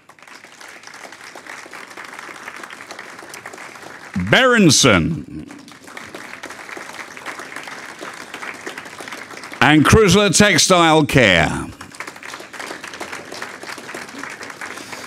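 Audience at a laundry and dry cleaning awards ceremony clapping for nominated finalists, a steady crowd applause running beneath a loud announcer's voice that cuts in twice.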